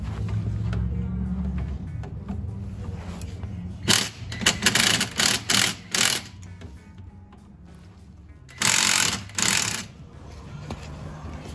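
Impact wrench hammering on 15 mm suspension bolts of an AWD Civic, several short loud bursts in quick succession then two longer ones, with lower rumble and handling noise between.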